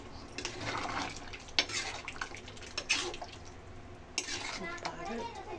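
A spoon stirring three medium tomatoes into cooked mutton curry in a pot, with soft scraping and clinks of metal against the pan, close and fairly quiet, with a few louder knocks.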